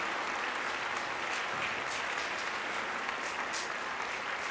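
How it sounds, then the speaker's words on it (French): A studio audience at a French-language televised quiz show breaks into steady, dense applause, many hands clapping together without pause at moderate distance. "Vous avez bien raison d'applaudir"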